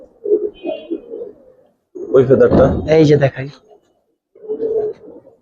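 A male Tuta pigeon gives a short coo between bursts of a man's close speech, moderately loud and brief.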